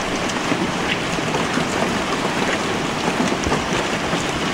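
Rain falls in a steady, dense hiss, loud and continuous throughout with no voices.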